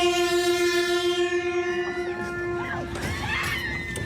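An Alishan Forest Railway train sounds its warning horn, a loud sustained multi-tone blast holding steady for about three seconds, then breaking off as rail rumble and scattered shrill screams and shouts rise behind it.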